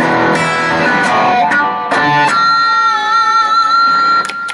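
A ZOOM G5n guitar multi-effects unit on its default tone after a factory reset, played through an amp: a dense, loud, wild distorted guitar sound with sustained chords and a few sharp attacks, continuous throughout.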